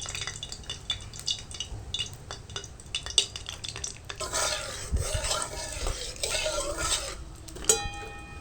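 Whole cinnamon, cardamom and cloves go into hot oil for potato biryani, first with clinks and scrapes of a utensil, then a louder bubbling sizzle that swells midway and fades near the end, close by.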